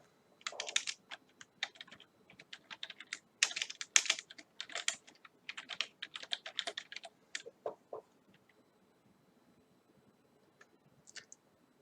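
Fast bursts of clicky keystrokes on a computer keyboard while code is typed, irregular clusters of close taps separated by short pauses, then trailing off to a few isolated presses.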